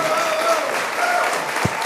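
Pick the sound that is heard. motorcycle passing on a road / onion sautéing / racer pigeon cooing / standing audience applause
standing audience applause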